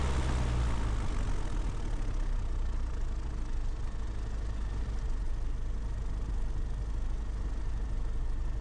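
Light aircraft piston engine held at idle throttle during an instrument training flight, a steady close, loud low drone with constant rumble and no break throughout.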